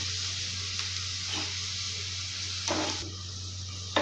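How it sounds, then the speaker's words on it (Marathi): Onions fry in hot oil as a garnish for homemade chicken biryani, giving a close, constant sizzle broken by a few brief stirring scrapes. "मम्मीने इथे गार्निशिंगसाठी कांदा फ्राय करायला लागला"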